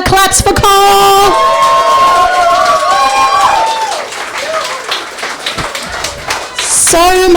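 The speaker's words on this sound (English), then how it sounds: "Claps for Cole!" A poetry club audience applauds and cheers for Cole Carter at a celebration of Recoil 10. A roomful of clapping swells and then fades, with voices and a brief whoop heard around it.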